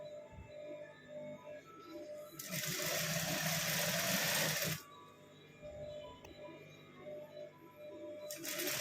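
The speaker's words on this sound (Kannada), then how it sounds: "full stitch ಹಾಕ್ಕೊಂಬಿಡೋಣ" A sewing machine stitches a blouse lining in a burst of steady mechanical whirring lasting about two seconds, then briefly restarts at the end, with quiet room sound between runs.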